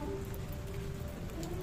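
Steady rain falls in a soft, continuous hiss with no break, moderately loud and close, with no voices over it.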